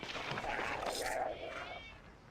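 A short cat meow from the Icewind Dale 2 video game, close and moderately loud, blended with other in-game sounds and fading out after about a second and a half.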